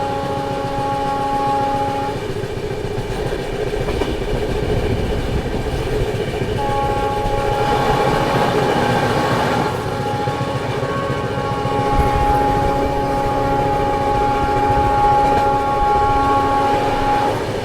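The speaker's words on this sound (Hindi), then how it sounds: "फिलहाल अपनी हमसफर एक्सप्रेस तिगांव स्टेशन को स्किप कर रही है।" The Humsafar Express running through Tigaon station without stopping, with a steady, loud rolling rumble and clatter throughout and long horn blasts sounding over it at several points.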